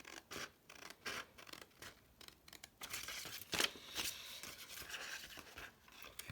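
Scissors cutting paper in a straight line for a vintage envelope, close and quiet snipping and scraping strokes in an uneven rhythm, no speech.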